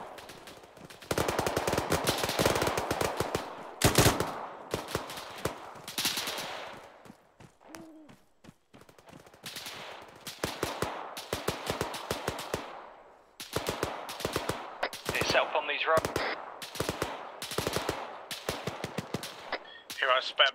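Automatic gunfire in the video game ArmA 3 during an Afghanistan deployment, long crackling bursts of rapid shots separated by short pauses, loud and close, with radio chatter in between.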